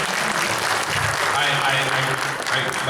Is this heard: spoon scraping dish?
no